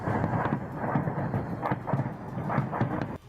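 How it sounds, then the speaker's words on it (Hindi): Russian bombardment explosions booming over Kyiv, a dense, continuous rumble of heavy, thunder-like blasts rolling one after another, loud and sustained with repeated stronger thuds. "रूसी सेना की बमबारी तेज होती गई, जिसकी आवाज से पूरा कीव शहर थर्रा उठा"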